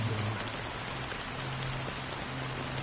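Steady rain in the video game Honkai: Star Rail patters densely on a surface, a constant close hiss with a faint low hum beneath it.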